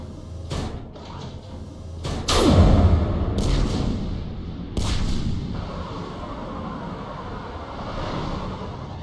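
Big guns fire artillery during a firefight in the video game Mass Effect 3, with a loud whooshing blast and falling tone near the start followed by further heavy impacts over a rumbling battle background.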